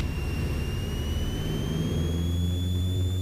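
Twin-engine Piper Seneca at full power during a training overshoot, a loud, steady drone of both engines with rising propeller tones and low rumble, filling the cabin throughout with no talking.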